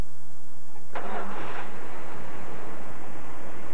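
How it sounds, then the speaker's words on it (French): A small 2002 car's engine cranks and catches with a sudden burst, then settles into a steady, loud running drone heard up close. "On va aller partir ça pour entendre le son de cette merveilleuse petite voiture"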